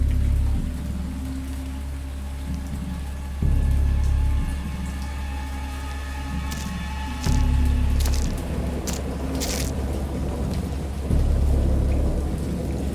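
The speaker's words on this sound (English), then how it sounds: "I heard peals of thunder and other tones, which nature utters only in her wildest moods" Heavy rain pours steadily from a thunderstorm in a dark Lovecraftian sea setting, with deep rolling thunder booming repeatedly at intervals over the constant downpour.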